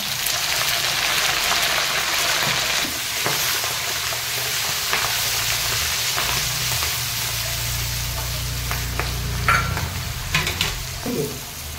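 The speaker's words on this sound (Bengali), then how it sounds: "প্রথমেই আমি 5 ফোড়ন দেবো আর জিরে মরিচ দিয়ে দেবো" Panch phoron spices, cumin and green chillies frying in hot oil in a wok for mango pickle, a loud, continuous crackling sizzle with stirring scrapes and occasional pops.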